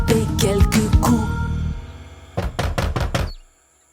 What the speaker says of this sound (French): le grand méchant loup à la porte du plus jeune vint frapper quelques coups